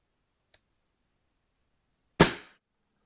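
A Swiss T1 pellet rifle fires once, a sharp close crack that fades quickly, preceded by a faint small click a moment earlier; otherwise silent.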